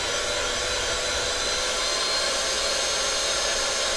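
An electric mixer beats whoopie pie batter in a bowl, giving a steady, unbroken motor whir with a constant high-pitched hum, loud and close throughout with no pauses.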